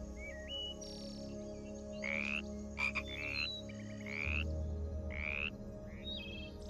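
Dart frogs call in the Amazon rainforest, several short trilled croaks repeating at a steady pace, close and clear over a low droning background hum, with no talking.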